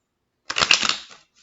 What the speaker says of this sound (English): The cards don't want to shuffle.